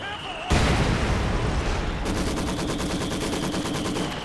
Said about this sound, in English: Just a lot of, kind of a machine gun spam, right?